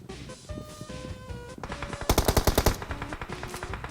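Rapid automatic gunfire in the mobile game PUBG Mobile, with a fast loud burst of repeated shots after quieter in-game sounds and tones, no talking over it.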